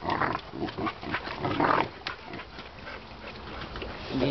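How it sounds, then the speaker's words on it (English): A chihuahua barks indoors in a run of short, yappy barks, moderately close and mixed with some background household noise. "Chihuahua is dying to come out here."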